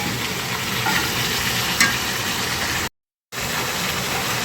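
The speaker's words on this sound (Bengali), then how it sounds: "মাছ, তেল, আলু, টমেটো, রসুন সব কিছু দিয়ে আমি তেলের উপরে ভেজে নেব" Fish, potato, tomato and garlic fry in oil in a pan, giving a steady close sizzle and crackle with a brief clink of stirring and no speech.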